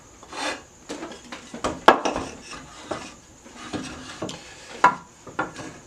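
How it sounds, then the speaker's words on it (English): A rasp is drawn repeatedly across a wooden ergonomic form, making close, rough, scratchy strokes in an uneven rhythm of about a dozen passes, each with a short pause between, and no talking. "where you use the rasp"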